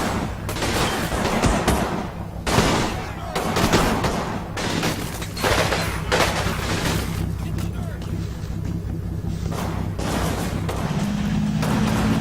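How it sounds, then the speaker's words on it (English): Tank machine gun fire in the World War II game Combat Mission Final Blitzkrieg: repeated sharp bursts and booms spaced across the clip, mixed with battle rumble, while someone talks over it. "Oh, the tank saw something, that's good. That's firing its machine gun"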